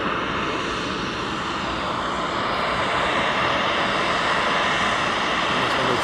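A DHL inbound cargo aircraft at East Midlands Airport makes a steady, loud engine roar that fills the whole stretch without letup, as if heard from airside at some distance.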